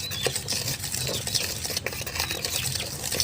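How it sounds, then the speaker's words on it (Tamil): Chocolate cake batter flavoured with cardamom is stirred in a bowl until smooth, giving soft, continuous scraping and sloshing with light clinks of the utensil against the bowl, close and steady, with no voices. "நம்ம நல்லா கொஞ்சம் கூட கட்டி இல்லாமல் நல்லா கலந்துக்கோங்க."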